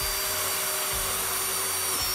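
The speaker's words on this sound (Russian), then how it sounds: "Теперь мы сверлим еще два отверстия, чтобы у нас прошел змеевик сам." Electric drill boring two holes through a homemade still chamber for a coil to pass through, a steady whine running continuously with brief dips in load, close and loud with no talk.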